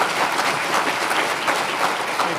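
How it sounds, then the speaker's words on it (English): An audience at a panel discussion gives the panelists a round of applause, a dense, steady wash of clapping heard close and loud throughout. "I'd like to give our panelists another round of applause."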